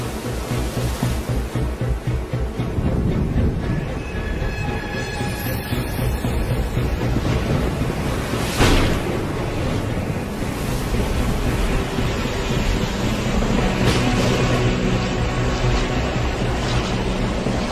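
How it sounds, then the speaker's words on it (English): Ocean water churns in a continuous, loud roar of waves and surf, rumbling and broad, with no voices heard. "To most of us, this is the ocean."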